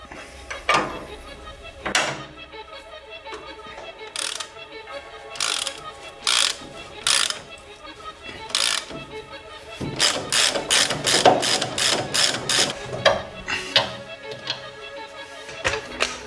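A ratchet works at the ball joint bolts on a Toyota 4Runner front suspension, with bursts of close, sharp clicking in irregular runs separated by short pauses and clanks, densest toward the end, with no talking.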